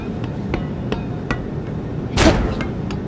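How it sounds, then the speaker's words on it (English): Hammer blows in the VR game Bonelab: a handful of sharp, evenly spaced strikes, then a louder, longer crunching hit, heard alone without talk. "I need hammer, a tiny hammer."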